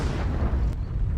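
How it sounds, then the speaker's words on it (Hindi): A dull, continuous low rumble of explosions from fighting in Mariupol, seen from a drone, heavy and thudding with no clear separate blasts in the brief moment. "धमाके होते हुए नजर आ रहे हैं"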